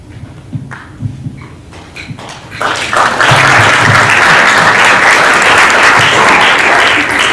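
An audience at a lecture on human rights, disappearances, debt and free trade in Argentina and Latin America claps loudly. Scattered, close early claps build into dense, sustained applause that runs to the end without speech.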